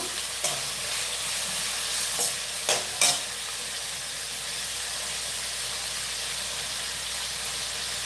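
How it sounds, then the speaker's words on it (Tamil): Onions and tomatoes sizzling steadily in a pan, a constant frying hiss with a few brief spatula scrapes near the start. "தக்காளி சேர்த்தாச்சு நல்லா வதங்கட்டும்"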